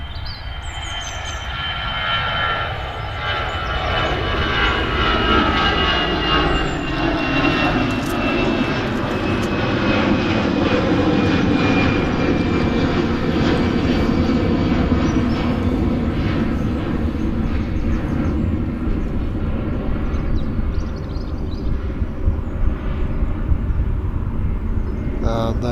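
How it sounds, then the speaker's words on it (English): A Lufthansa airliner departing Manchester Airport produces a loud, sustained jet engine roar with shifting whine and rumble that builds and holds for the full stretch, close and powerful. "Lufthansa going out on his amazing 1 hour flight"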